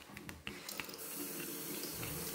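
Water runs steadily from a tap in a basic hotel bathroom on a rally stop, a continuous hiss of flow with a few clatters at the start.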